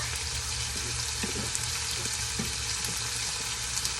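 Sauce bubbles as it simmers in a pot, a steady soft hiss with faint bubbling pops and light clinks, no voices.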